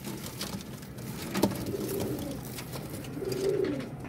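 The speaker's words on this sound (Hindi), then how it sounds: "ये माशाल्लाह आ गया चीना कबूतर" Soft cooing from a Chinese pigeon, a new purebred bird, with a couple of brief low coos rising over steady outdoor background noise at moderate distance.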